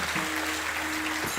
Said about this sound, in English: A big round of applause, my friends,